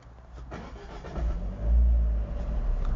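Fiat 124 Spider engine and exhaust while driving, a low droning rumble that swells as the car pulls and revs, then settles into a steady cruising hum, heard from inside the car.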